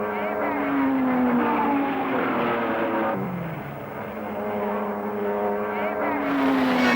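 1960s Ferrari race cars scream through S-bends at dawn during a 1963 endurance race, one engine note rising and falling as it passes close, then another approaching, loud and sustained with no talking.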